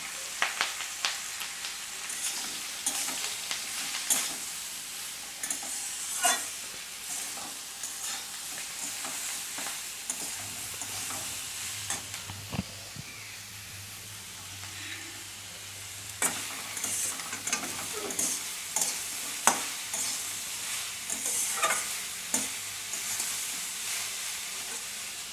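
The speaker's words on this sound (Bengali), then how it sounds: "এইবার কুচানো পটলগুলো দিয়ে দিচ্ছি।" Chopped pointed gourd and green chillies fry in a pan with a steady, close sizzle. A spatula scrapes and clinks repeatedly throughout, and a brief louder hiss of oil rises midway. No voices are heard.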